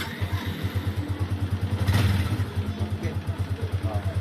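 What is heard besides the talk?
2017 model motorcycle engine running after repair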